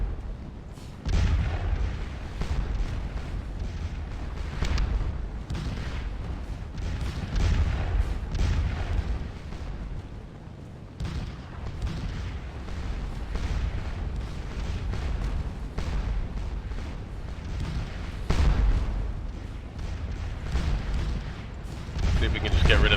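Napoleonic artillery fire in the game Scourge of War Waterloo, repeated heavy booms and rumbling cannon blasts layered over one another in a dense battle din, with a voice talking over it.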